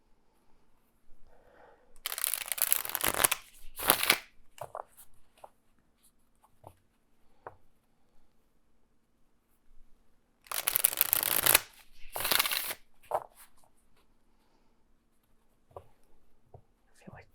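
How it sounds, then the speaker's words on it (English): Two separate bursts of brisk riffling shuffles of a fairly new tarot deck, each a couple of seconds long, close by, with quiet soft handling noises between them. "Maybe one more good shuffle."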